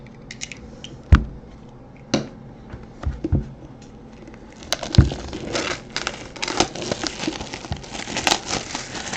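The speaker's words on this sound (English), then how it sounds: "I'm gonna cut the overwrap right here" Plastic overwrap on a 2016 National Treasures Football card box being cut open, giving crinkly, crackling rustles with a few sharp snips and taps, close and moderately loud, then denser continuous crinkling in the second half.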